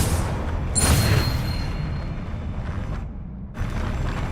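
A Confringo spell blast in the Hogwarts Legacy video game lands as one bright crackling burst near the start, then gives way to steady, quieter game ambience with a brief hush before it resumes.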